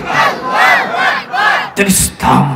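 A religious gathering crowd at a waz mahfil chants in unison in loud, rhythmic, shouted bursts, three swelling calls followed by a brief clatter and another collective shout.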